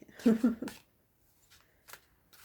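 A new, glossy Rider-Waite Smith tarot deck is shuffled by hand in a quiet room, with a short papery riffle up front and then a few faint card flicks and taps.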